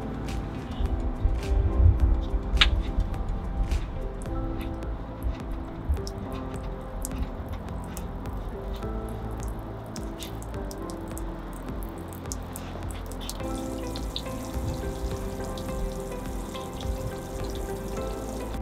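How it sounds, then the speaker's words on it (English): Water trickles and gurgles steadily as it drains from the water tank of a 2023 Voyager trailer, with scattered drips and small clicks and no one talking. "So we'll just open this up and allow this to drain."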